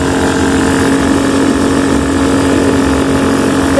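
An ATV engine with a faulty throttle, following a carburetor problem, runs loud and close in a steady, uneven idle with a constant mechanical drone and rough low rumble, with no talking.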